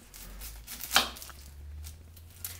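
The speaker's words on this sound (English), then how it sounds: "the next step is to go ahead and cut up your onion" A knife chops an onion on a board, with a few soft cuts and one sharper thump, quiet and close with no talking.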